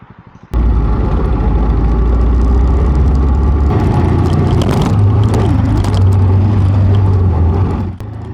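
A motorcycle riding along winding, empty forest roads in Slovenia, its engine droning loud and steady after a sudden start, with rushing wind noise, fading slightly at the end.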